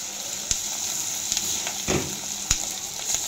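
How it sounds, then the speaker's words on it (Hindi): Onion with turmeric and red chili stirred in a frying pan for poha: a steady close sizzle broken by a few sharp clicks of a spoon on the pan and a brief louder stir, no voices. "इसको मिला लेते हैं।"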